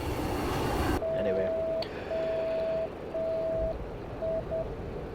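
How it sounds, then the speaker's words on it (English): Cockpit warning beeps sound in a Mirage 2000C in the DCS World flight simulator, a steady tone repeating in evenly spaced pulses over a low background hum. "Why is it all beeping at me?"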